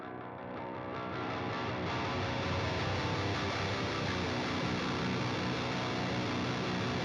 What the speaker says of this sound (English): listen to how the distortion characteristic changes from this lightly crunch sound to like overwhelming fuzzy like distortion where you can't really hear the individual notes